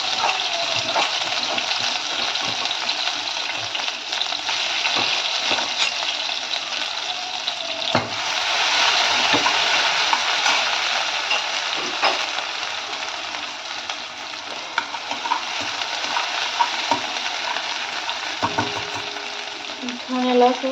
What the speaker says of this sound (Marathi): तेल छान तापलेलं आहे. तर त्यामध्ये मोहरी टाकून घेतलेले आहे, थोडं जिरं आणि जी हिरवी मिरची आणि लसूण कुटलेला होता ते पण यामध्ये ॲड करणार आहे.